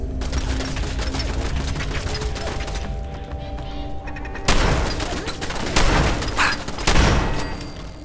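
Rapid gunfire rattles continuously in the video game Fallout 4, punctuated by heavy booming blasts from an explosion, loud and dense throughout.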